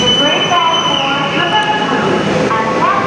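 Loud steady rumble of a Jakarta MRT train in motion, with a faint high whine and occasional squeals running throughout.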